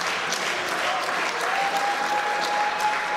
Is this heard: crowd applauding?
yes